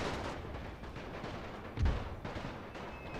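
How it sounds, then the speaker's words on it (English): Artillery barrage in the World War I strategy game The Great War, Serbian campaign: a dense, rumbling wash of distant booms and gunfire with one heavier thud standing out midway, steady throughout. "Let's go ahead and barrage."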